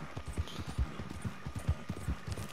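Horse hooves clip-clopping in Red Dead Redemption 2, a steady rhythmic series of mid-loud thuds at a trotting pace, close by and heard alone.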